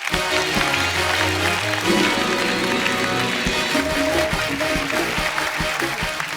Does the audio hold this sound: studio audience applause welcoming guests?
yes